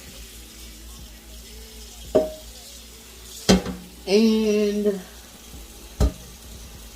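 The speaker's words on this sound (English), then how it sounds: "So I'm going to pour them in the strainer." Cooked macaroni noodles poured from a pot into a kitchen strainer, giving a few short splashing bursts and a longer rushing pour of water, with a brief spoken word.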